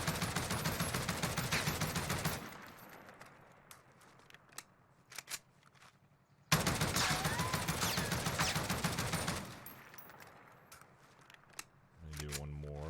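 Oden rifle fitted with a Commando foregrip firing in the video game Warzone: two long, loud bursts of rapid automatic fire, each followed by quieter stretches with scattered clicks and single shots.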